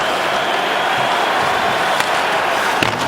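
A hockey arena crowd at an NHL game between the St. Louis Blues and the Montreal Canadiens makes a steady, broad roar to urge a player on. A couple of faint thuds of stick or puck sound through it.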